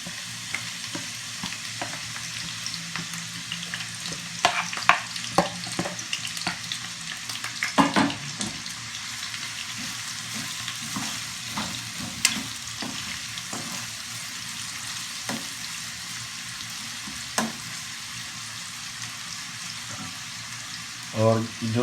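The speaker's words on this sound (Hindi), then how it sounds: "अब हम दोबारा कढ़ाई में ये जो गाजरें थी उनको बारीक बारीक काट लिए और इनको हम फ्राई करेंगे।" Finely chopped carrots fry and get stirred in a kadai, giving a steady sizzle with scattered scraping and clinking stirs throughout, close and moderately loud.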